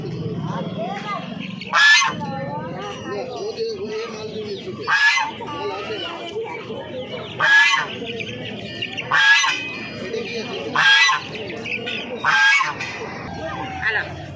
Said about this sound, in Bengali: তো এখানে এক পিস রাজহাঁস রয়েছে